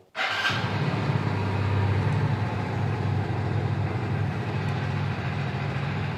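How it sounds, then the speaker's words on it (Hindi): A Hero Splendor BS6 motorcycle engine starts up and then idles steadily, a loud, close, continuous low rumble with no talk over it. "अभी जो इंजन है उसको स्टार्ट करता हूँ"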